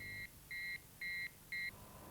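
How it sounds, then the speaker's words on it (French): Transformer alarm in a power grid control centre, four evenly spaced electronic beeps of a steady high tone, quiet and clean, with no talk. "vous voyez ici justement une alarme de transformateur"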